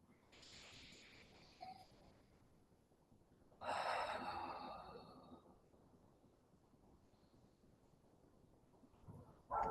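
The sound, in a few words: deep breathing, exhaling through the mouth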